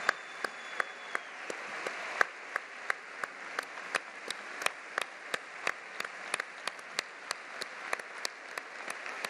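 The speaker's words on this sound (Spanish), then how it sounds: "Todo el recinto ferial levantado aplaudiendo a la viuda" A standing crowd at the Santa Cruz de Tenerife Carnival Queen gala in 2014 claps in steady unison rhythm over a broad wash of crowd noise, heard from a distance and fairly soft.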